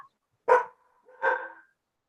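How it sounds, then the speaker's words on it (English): A dog barks twice from somewhere off-microphone during an online school board committee meeting, two short separate barks under a second apart against an otherwise quiet background. "Whose dog is that?"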